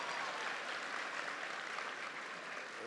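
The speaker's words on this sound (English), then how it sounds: "Please give him a big round of applause." Sustained applause from a large audience at a high school commencement address in Tennessee, a dense, steady wash of clapping lasting the whole moment with no voices on top.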